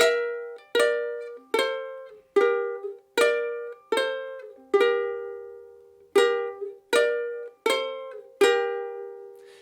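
Slow plucked ukulele strums, eleven evenly spaced chords ringing out and decaying, clear and close with no talking.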